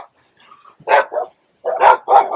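Several dogs barking nearby in short bursts, two quick barks then a pause and three more, loud and clear with a faint whimper just before.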